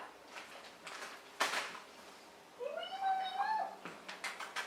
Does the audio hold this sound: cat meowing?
yes